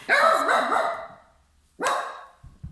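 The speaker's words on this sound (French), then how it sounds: "Petit chien." A small dog barks twice up close, the first bark drawn out and rough, the second sharper after a short pause, followed by faint thuds.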